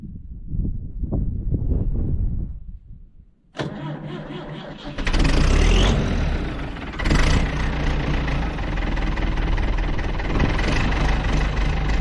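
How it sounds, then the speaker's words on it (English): A Ford tractor engine is started from cold: after a whirring crank, the diesel catches with a loud roar, then settles into a steady, rough, knocking idle, heard close. "So, start a Ford tractor."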